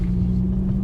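A 2.5L five-cylinder VW Golf or Jetta fitted with a USP downpipe idles with a steady, deep exhaust rumble, close by and unbroken for under a second.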